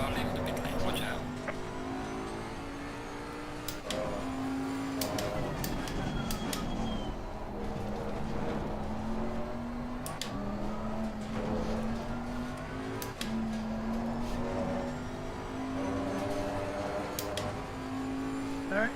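Race car engines in Assetto Corsa Competizione at Misano drone through repeated gear shifts, rising and dropping in pitch over and over, with radio-style voices talking over them throughout.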